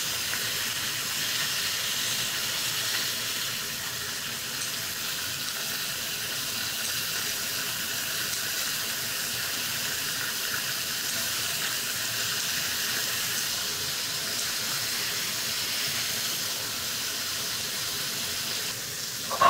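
Pork neck meat sizzles in a pan as it browns, a steady loud frying hiss that holds unbroken for the whole stretch with no talking.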